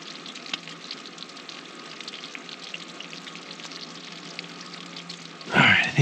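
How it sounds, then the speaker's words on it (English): A pot of water on a camp stove bubbles and hisses at a steady boil for several seconds in the cold outdoors, then a brief louder clatter ends it. "I think this is boiling"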